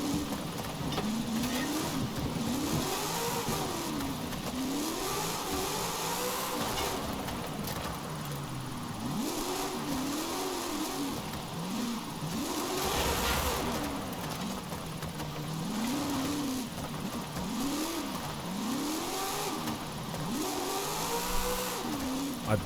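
Car engine in Forza Horizon 5 revving hard and continuously while drifting, pitch sweeping up and down in repeated surges as throttle is blipped, loud and steady across the whole stretch with no talk over it.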